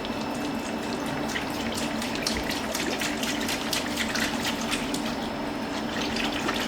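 PolyLube flows from a container into a Graco E-10HP tank with a steady, splashy rush of liquid, continuous and close.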